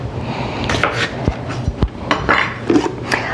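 Potatoes shredded for hash browns in a home kitchen, giving a short run of scraping, rasping strokes mixed with sharp knocks and clinks of utensils against a bowl or board, close and alone.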